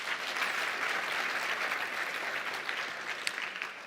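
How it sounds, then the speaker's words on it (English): Sustained round of applause from a conference audience at a high-level opening session, dense steady clapping throughout that tapers slightly toward the end. "One last round of applause, please"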